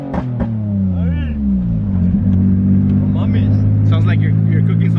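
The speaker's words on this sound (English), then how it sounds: "Derek went straight piping his 350Z. That shit's fucking loud, bro." A Nissan 350Z with a straight-piped exhaust rumbles loudly with a deep, steady low drone, swelling slightly as it revs and holding a continuous roar throughout, with people talking over it.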